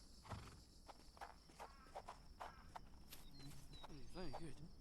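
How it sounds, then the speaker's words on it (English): Horse hooves clip-clop at a steady walking pace in the Sherlock Holmes: The Awakened video game, a series of light, evenly spaced knocks under game music and ambience, with a brief whinny-like call near the end. "Horse."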